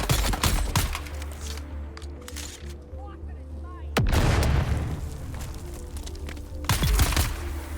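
A grenade goes off in the video game Dune, with heavy booming blasts at the start and a loud burst midway, followed by rumbling combat noise.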